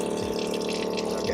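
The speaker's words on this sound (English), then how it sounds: "Can you show us the water pump in action?" An electric water pump runs in a van kitchen as a steady, close hum with a rushing, water-flow texture. It stays constant throughout with no voices over it.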